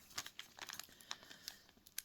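A thin plastic bag crinkles as it is pulled open, quick soft crackles and rustles close by, with no talking.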